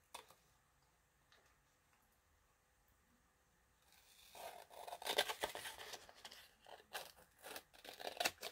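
Scissors cut through a book page while envelopes are made, starting after about four seconds of near silence as a run of soft, crisp snips and rustles close by.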